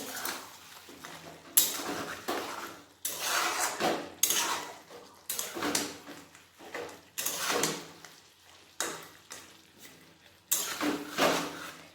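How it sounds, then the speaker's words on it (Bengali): A pot lid comes off and mutton head curry is stirred, heard as repeated metallic scraping and clanking of a utensil against the pot in bursts with brief gaps. "এরপর আবার ঢাকাটা খুলে নেব একবার নেড়ে নেব"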